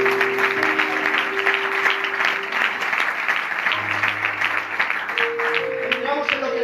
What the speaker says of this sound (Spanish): Los que lo crean le dan ese aplauso al Señor.